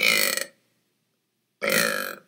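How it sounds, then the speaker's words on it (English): Two loud, long burps after drinking soda, each one raspy and close, separated by about a second of silence. "I think these burps are just great."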